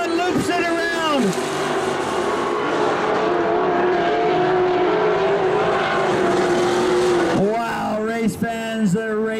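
Race cars roar around a track at a stock car event with a steady loud engine drone, doppler-like pitch sweeps from cars passing near at the start and again near the end, and a commentator talking over the racing.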